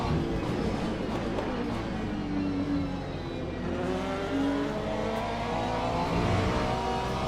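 LMP2 prototype race cars in the racing game Le Mans Ultimate, engines droning and whining continuously with pitch shifting as the cars accelerate and pass, steady and fairly loud throughout.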